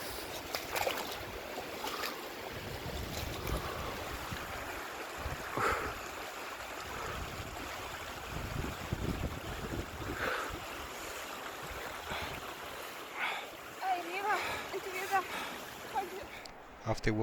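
Cold glacial meltwater river flowing on the Hardanger Plateau, a steady broadband rush of water at close range that stays continuous throughout, with a few splashes and faint intermittent voices underneath.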